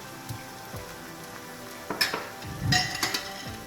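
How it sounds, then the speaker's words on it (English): Potato leaves and shrimps with spices being stir-fried in a pan, a soft background sizzle broken by several close scraping and clanking strokes of a spatula against the pan. "Stir fry and now add the following spices."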